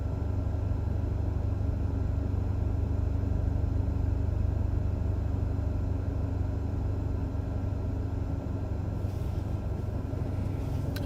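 A loud car rumbles with a steady, heavy engine drone that fills the whole stretch without fading. It is heard from inside a storm chaser's vehicle waiting at a red light.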